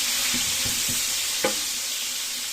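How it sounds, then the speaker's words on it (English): Onions sizzle and fry steadily in salted oil in a pan, with a spatula scraping and stirring through them in a few distinct knocks and strokes, close and alone without talk. "Then I'll be adding my onions like that. Mix it with your spatula."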